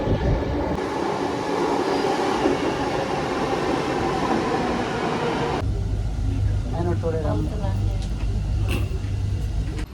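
Bangalore metro train pulling into a station, a loud continuous rumble that shifts abruptly partway through as the train slows, with people talking underneath.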